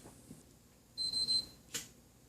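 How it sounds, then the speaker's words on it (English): A rebooting electronic system gives a short, quiet run of high electronic beeps, three closely spaced tones followed by a brief click, in an otherwise hushed room. "You should hear 3 beeps."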